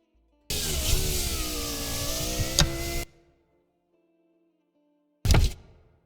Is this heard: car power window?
yes